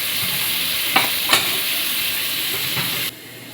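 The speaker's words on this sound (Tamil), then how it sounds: "மஞ்சள் தூள் உப்பு போட்டு நம்ம எப்பவுமே வதக்குற மாதிரி வதக்குவோம்." Onions with turmeric powder and salt sautéing in a pan, a steady close sizzle broken by a couple of sharp spatula knocks before cutting off near the end.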